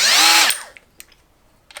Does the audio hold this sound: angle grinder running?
yes